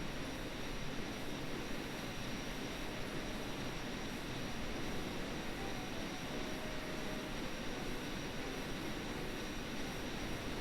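An aircraft engine in Kerbal Space Program makes a dense, unbroken roar during a flyby, holding steady and loud with no voices.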